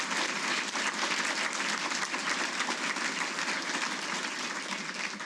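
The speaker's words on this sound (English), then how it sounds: "Let's give him a round of applause." Audience at a Hall of Fame induction ceremony applauds in a dense, steady wash of clapping that holds evenly throughout without fading.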